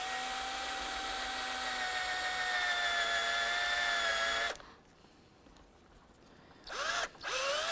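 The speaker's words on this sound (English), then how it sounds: "you have two plastic rivets that you need to drill out. To start, I'll use a 3/8 drill bit." A power drill fitted with a 3/8 bit drills out plastic rivets on a 2005-2010 Chevrolet Cobalt, whining loud and steady for several seconds, then stopping and giving one short burst near the end.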